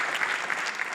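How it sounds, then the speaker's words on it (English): Steady applause from an audience at an athletics Hall of Fame ceremony, honoring inductee Tom Lydon, a brief, even burst of many hands clapping. "Round of applause for my friend Tom Lydon."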